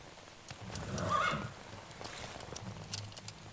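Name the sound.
horse in the video game Metal Gear Solid 3: Snake Eater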